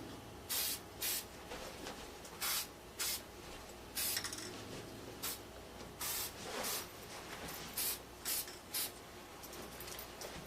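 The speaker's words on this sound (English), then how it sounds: "I'm spraying it right down into the base, to the ears." Spray can hissing onto a whitetail deer head mount, about a dozen short sharp bursts spaced irregularly, close and crisp over a quiet room, with no talking.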